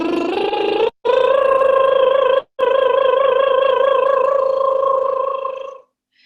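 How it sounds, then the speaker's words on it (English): A sustained vocal lip roll holds a steady high note for about five seconds, broken by two brief breaths, with a buzzing, purr-like trill that fades out at the end; no talking. "if you can do the lip roll, what you're going to do is hold the note at the very top"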